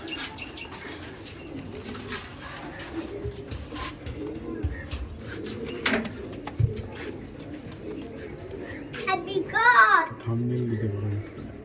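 Madrasi and Andhra pigeons coo in repeated low, rolling bursts at close range, with the loudest calls near the end, as people talk over them.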